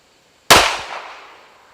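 A single sharp shot from an NAA Green Huntsman black powder pistol, loud and close, with a long booming decay that trails away for over a second.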